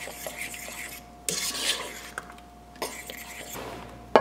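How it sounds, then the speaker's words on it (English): A spoon stirs thick, bubbling chicken pot pie filling in a pot, scraping and rubbing in uneven bursts with a soft metallic knock at the end, close up, with quiet speech. "Just gonna stir it up."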